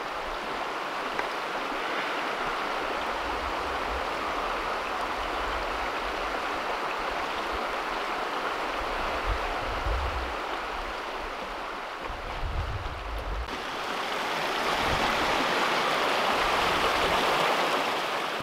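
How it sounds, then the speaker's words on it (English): A wild creek in the Sierra Nevada rushes under a bridge, roaring steadily and close by, a dense broadband wash with low rumbling surges and no voices. "There's a pretty wild creek over here."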